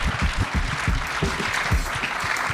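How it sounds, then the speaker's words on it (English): An audience at a panel discussion during the 2023 PGA Championship applauds its guests, with dense, steady, fairly close clapping that lasts throughout. "can we give our guests a round of applause"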